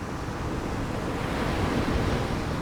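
Ocean waves wash onto the shore in a steady, full roar of surf, broad and continuous with slight swells in intensity, enveloping and fairly loud with no voices.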